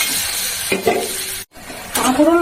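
Mixed vegetables, including pointed gourd, pumpkin, ivy gourd and chilli, tip into a hot pan with water, giving a sudden loud sizzle and hiss, a brief gap, then renewed stirring and bubbling up close.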